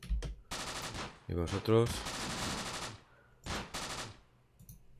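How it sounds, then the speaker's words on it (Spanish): Machine gun in the Close Combat war game firing rapid bursts at remaining enemy units, loud rattling volleys broken by pauses while someone speaks Spanish briefly over the fire. "La MG está disparando aquí a estas unidades que quedan."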